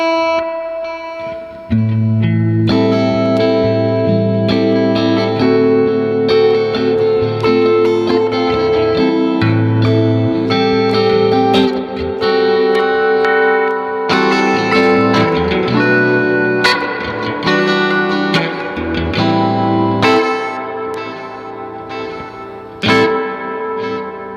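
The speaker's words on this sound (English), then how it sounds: "Okay, so now I have a lot of reverb on my amp." Electric guitar plays sustained chords and notes drenched in heavy reverb and echoing delay, loud and washy with lingering repeats.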